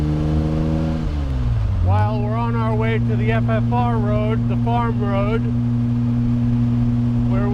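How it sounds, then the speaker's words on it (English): A 1956 Aston Martin DB3S-R's engine drones steadily while driving, its pitch dropping and then settling at a constant, loud level beneath someone talking. "hear how great this DB3S sounds"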